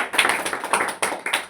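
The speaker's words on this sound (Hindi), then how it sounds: "एक बार जोरदार ताली हो जाए इनके लिए" An audience bursts into applause at a gathering in India, sharp overlapping hand claps in quick irregular bursts, close and loud with no one speaking.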